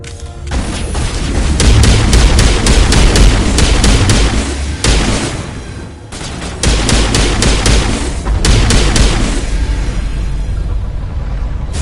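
Gunfire in Mass Effect Legendary Edition: rapid bursts of loud, close weapon shots in several volleys separated by brief pauses, with booming impacts under the firing.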